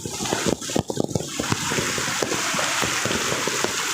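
Strong floodwater current rushing during Typhoon Carina, a dense, steady wash of churning, splashing water close by with irregular sloshing bursts throughout.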